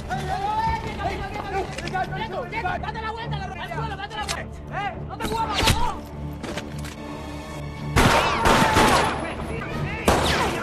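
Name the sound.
gunfire in a movie shootout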